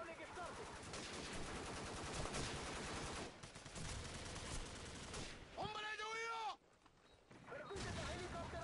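Gunfire in Call of Duty 4: Modern Warfare, with a one-shot sniper rifle among dense, loud close shots and game effects, while someone talks over it.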